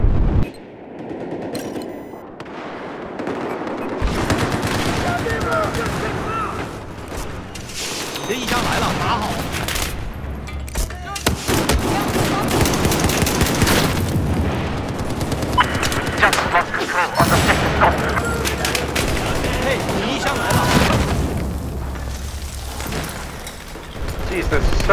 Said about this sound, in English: Jeez, there's so many grenades, seriously.